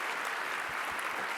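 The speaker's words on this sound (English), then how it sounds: "Let's give a big round of applause to Dana, who knows all the things." A conference audience applauds steadily and fairly loud throughout, a dense wash of clapping with no talk over it.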